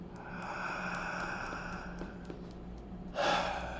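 A deep audible breath is drawn during a tapping meditation, a breathy gasp-like inhale near the end over a faint steady background hum.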